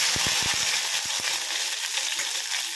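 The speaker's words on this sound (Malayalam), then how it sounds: "അതിലേക്ക് അരിഞ്ഞു വെച്ച വെണ്ടക്ക കൂടി ചേർത്ത്" Chopped okra dropped into hot coconut oil with mustard seeds and curry leaves, a loud, steady sizzle and crackle, with a burst of sharp pops and spatters early on that then settle into a continuous hiss.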